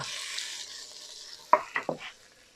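Shrimp dropped into a hot pan with Thai garlic, giving a steady close sizzle of frying followed by three sharp scraping stirs near the end, with no talking.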